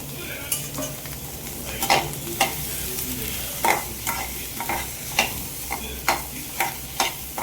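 Three tomatoes fry in a pan of chicken curry, a constant sizzle punctuated by regular sharp clinks and scrapes of a spoon stirring against the pan, close up.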